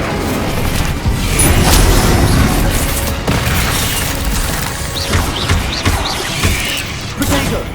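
Spell blasts from Incendio and Bombarda in the Hogwarts Legacy video game, heavy booming explosions and crashing impacts in quick succession during combat, loud and close, with faint game sounds between hits.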